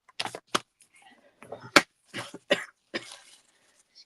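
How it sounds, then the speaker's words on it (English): A few short, sharp coughs close to the mic, spaced irregularly with quiet gaps and soft breathy sounds between them. "excuse me while I have a little cough."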